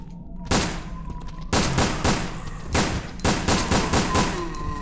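Gunfire from the Resident Evil Dead Aim video game as zombies are shot, with several loud bursts of rapid shots separated by short pauses over a low game background drone.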